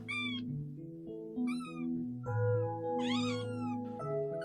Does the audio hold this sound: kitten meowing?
yes